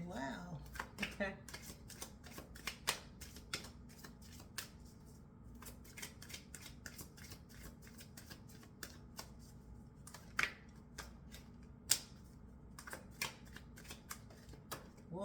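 Tarot cards are shuffled and handled during a reading, producing quiet, close, irregular papery flicks and snaps spread throughout, over a faint steady background hum.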